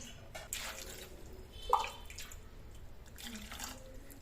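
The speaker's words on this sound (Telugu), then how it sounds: "ఇలా జస్ట్ మునిగే వరకు వాటర్ వేసుకున్నాను" Water pours into a pot of beans and green peas in a home kitchen, a soft, quiet trickle and splash with a brief louder gush midway and no talking.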